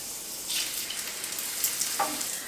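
Squash blossoms frying in a spoonful of oil in a pan, a soft continuous sizzle with a couple of brief sharper spits.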